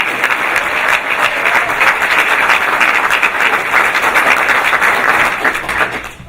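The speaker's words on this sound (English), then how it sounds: "I want everyone to give her a big round of applause." An audience at a school graduation ceremony gives a loud, sustained round of applause, dense steady clapping from a large crowd that carries on for several seconds before easing slightly at the end.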